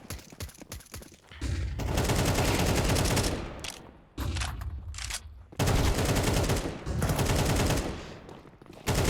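Bursts of automatic and rapid rifle fire from Counter-Strike 2 on the Dust2 map, loud sustained volleys broken by short quiet gaps, with no voices over them.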